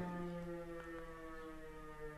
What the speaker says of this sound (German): Die Sirene ist übrigens, ich kann sie hier sehen, sie ist auf dem Dach des Nachbarhauses.